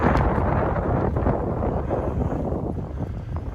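Strong gusting wind blowing beside the Allegheny River in February, a loud continuous rumbling roar buffeting the microphone with no break.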